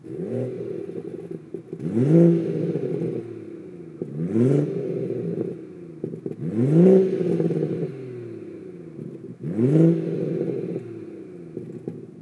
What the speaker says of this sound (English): I will give you a couple exhaust clips of the stock exhaust